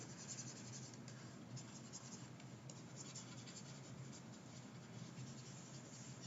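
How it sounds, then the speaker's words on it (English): Writing being erased from a board during a maths lesson on ratios and triangles, a steady continuous scrubbing and scratching that runs throughout, close and fairly faint, with no speech. "let me just erase some of this stuff"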